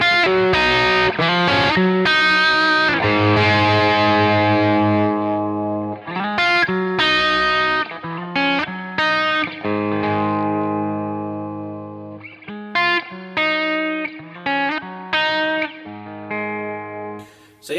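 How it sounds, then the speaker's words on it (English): Glarry GTL budget Telecaster-style electric guitar through a gained-up amp with the volume knob rolled down, playing bright, fairly clean chords and riffs in bursts with pauses, sustained notes ringing out, no talking. "do something with a bit more gain, and then just sort of roll the volume control down just to see how well it cleans up"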